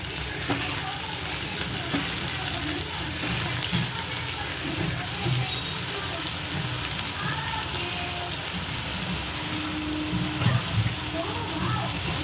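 Cut eggplant pieces sizzle and fry steadily in a pan with garlic paste, a continuous close crackle with occasional stirring while a person talks over it.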